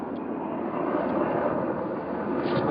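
A steady distant engine drone hangs in the air, a continuous low whir from a mostly white helicopter passing at a distance over the Oso mudslide area, with no voices.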